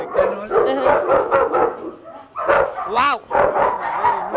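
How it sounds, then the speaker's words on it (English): Several Jack Russell terriers bark repeatedly in a kennel, with sharp yips close by in rapid bursts, and a person briefly exclaims between them. "These are my Jack Russells."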